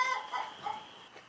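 A few soft clucks from chickens nearby, brief and low-key, trailing off toward the end.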